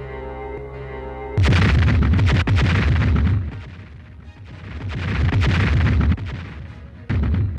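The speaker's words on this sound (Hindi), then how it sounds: "अब तो हो ही जाने चाहिए धमाके।" Series of loud explosions from a TV superhero show, with a sudden heavy blast followed by rolling, repeated booms and crackling bursts, then another abrupt blast near the end.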